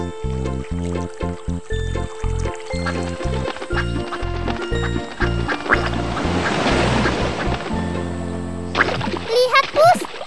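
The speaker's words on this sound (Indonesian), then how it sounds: "Itu ada bebek lucu." A duck quacks repeatedly over a steady musical backing, with a brief watery splash near the end; the calls are fairly loud and close.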